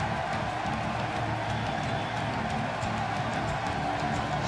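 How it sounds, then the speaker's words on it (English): A large arena crowd at a professional wrestling event hums with steady, dense chatter and murmuring after a match, a continuous wash of voices with faint scattered cheers and claps. "This crowd is already buzzing after that match"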